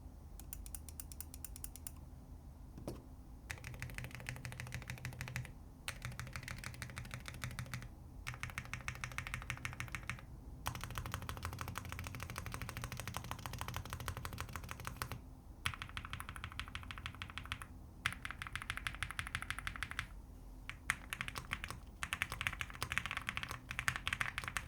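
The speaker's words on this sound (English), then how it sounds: "Typing is soft and subtle, very smooth and creamy, and not too loud." Soft, muffled keystrokes on an IQUNIX MQ80 low-profile mechanical keyboard with foam dampening, typed in steady bursts with short pauses, close and even in loudness, with no voices.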